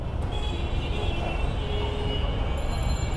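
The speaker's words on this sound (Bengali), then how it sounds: "রেল আইব ট্রেন গাড়ি আইব ট্রেন ট্রেন ট্রেন" A train passes the Khilgaon railway crossing with a loud, close, continuous rumble and steady whining tones, with no voices over it.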